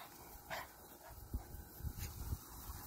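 A pet dog gives a few faint whimpers and soft yips indoors, brief and scattered across a quiet room with low background noise.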